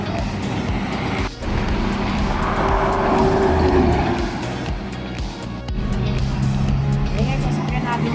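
A car drives along a road between Manila and Naga in the Bicol region, its engine droning and road noise rising and falling steadily, close by, while people talk over it.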